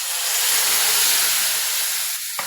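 Onions frying in a pan until lightly golden, a steady loud sizzling hiss that runs without a break, with a faint clink near the end.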